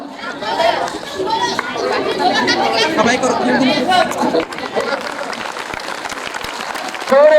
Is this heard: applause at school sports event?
yes